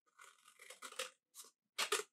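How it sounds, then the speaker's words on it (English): Scissors snip through folded paper, cutting from the edge toward the center in a few short crisp bursts, with one quick cut and a pause before a final louder snip, close and clear with no talking. "So you can take your scissors, and then I'm gonna cut"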